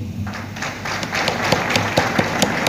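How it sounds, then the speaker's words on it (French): Audience applause at a Mister Togo International 2021 pageant presenting candidates, a steady wash of clapping with a few sharper claps standing out, fairly close and continuing for the whole stretch without talk. "j'aimerais solliciter de votre part des applaudissements pour eux"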